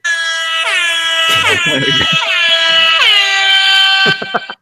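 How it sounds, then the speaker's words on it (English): A loud, sustained sad air horn sound effect blares with pitch drooping downward in several falling wails, a comic deflating tone ending in a brief sputter. "It's like you know the sad air horn."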